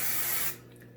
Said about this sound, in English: I use a little bit of Air Control by Aveda, and I go in and I just spray.